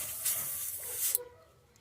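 A paint sprayer hisses as it atomizes thinned paint mixed with a little black, run at turned-down pressure; a steady, fairly close broadband hiss lasts about a second before cutting off sharply, leaving quiet room tone.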